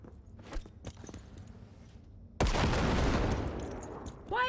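Gunfire in the video game Cyberpunk 2077: after a quiet stretch of faint clicks and movement, a sudden loud burst of rapid shots and blast noise fills the remainder.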